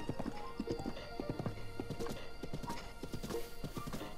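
Blue horse in The Legend of Zelda: Breath of the Wild, steady galloping hoofbeats in a video game with a short neigh mixed in, continuous and close.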